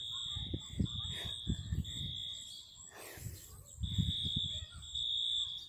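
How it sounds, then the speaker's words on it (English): A school fire alarm rings with a piercing, steady electronic tone that pauses briefly partway through. Voices talk underneath it in a room. "somebody pulled the fire alarm"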